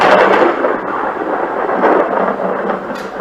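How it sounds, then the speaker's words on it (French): Thunder rumbles loud and continuous with rain, a broad roaring wash that swells and holds steady throughout without any voices. "tonnerre!"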